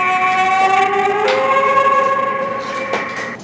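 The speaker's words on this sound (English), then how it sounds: "It sounds like a siren." A siren-like electronic tone plays from a dinosaur augmented reality flash card app, with steady harmonic wails and small pitch shifts lasting throughout, fairly loud and with no talking over it.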